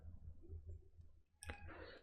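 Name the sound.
mouse click on the Next button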